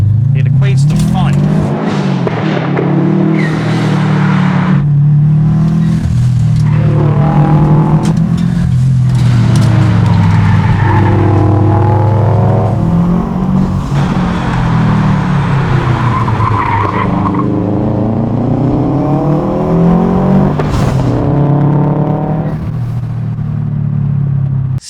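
A tuned Subaru WRX driven hard, engine roaring and tires skidding and squealing through turns, loud and sustained with rising and falling revs, while a voice talks over it.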